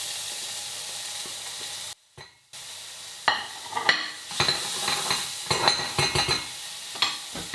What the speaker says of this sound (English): get a little saute pan, a little bit of oil. We're going to add the rest of the shallots to the pan.